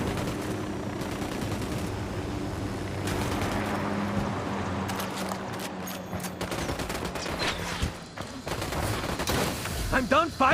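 Dense, sustained gunfire fills a battle in the video game Call of Duty Ghosts, rapid volleys layered over a rumbling background, with voices speaking under the shooting near the end.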